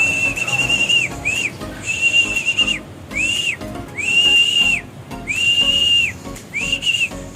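A hand whistle blown to call birds home, repeated sustained shrill blasts with short gaps, loud and close, alone without talk.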